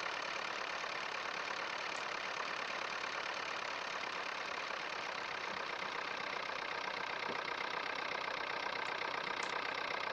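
A Fordson Major tractor engine runs steadily at idle throughout, a continuous even mechanical drone with no voices.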